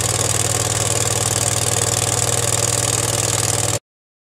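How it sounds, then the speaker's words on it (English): A gas-powered commercial tire air compressor runs to warm its oil, giving a steady, loud engine drone with an even low hum for almost four seconds before cutting off abruptly into silence. "The first step is to warm up your air compressor oil. Let the compressor run for 1 to 2 minutes."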